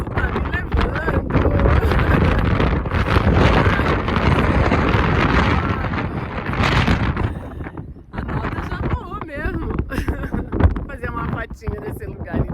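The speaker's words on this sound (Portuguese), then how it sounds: "Gente, tá ventando muito ali fora, muito, muito, muito." Strong wind buffets the microphone outdoors at a scenic spot, a steady loud roaring rumble that eases briefly and returns, with someone talking under it at times.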